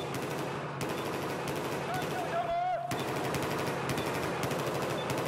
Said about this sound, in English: You're getting shot at, Jojo,